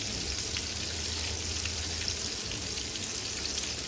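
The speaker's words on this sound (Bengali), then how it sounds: "এইখানে পাঙ্গাস মাছটা ভুনা করবো এই জন্য পাঙ্গাস মাছটা ভাজবো" Pangas fish frying in a pan over a gas flame gives a steady, dense sizzle and crackle that runs evenly through the whole short stretch at moderate volume, with no voices.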